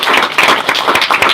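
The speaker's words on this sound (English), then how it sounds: "those are real claps" Live audience clapping after a talk at a tech career conference, a brisk burst of many hands close by, dense and loud for just over a second.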